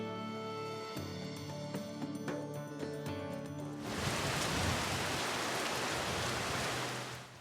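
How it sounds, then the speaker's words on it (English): Sheets of wind-driven rain from a fast-moving storm over Minnesota's Northwest Metro on a late morning, a loud broadband wash that starts abruptly after a passage of music and then holds steady. "The winds picked up, and as you see here, sheets of rain fell late Thursday morning."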